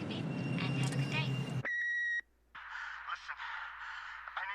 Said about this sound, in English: Leave a message after beep and have a good day.